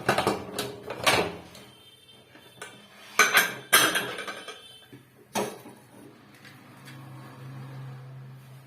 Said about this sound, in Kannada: ಕುಕ್ಕರ್ ಕ್ಲೋಸ್ ಮಾಡ್ತಾ ಇದ್ದೀನಿ